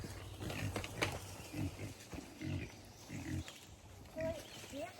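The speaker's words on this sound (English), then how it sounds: "These pigs are happy this morning" Pigs on a farm grunt and snuffle in repeated short bursts close by, rooting around in the morning, with a person talking intermittently over them.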